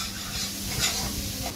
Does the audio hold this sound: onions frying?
yes